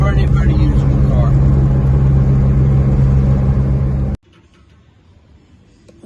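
A 1957 MG Magnette ZB saloon's engine droning steadily at speed, then cutting off abruptly into near silence as it shifts into fifth gear.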